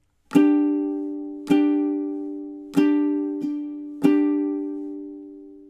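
Ukulele strumming a single held chord for the first measure of a song, five crisp strums in a steady down-up pattern with ringing decay between them, clear and close with no voice.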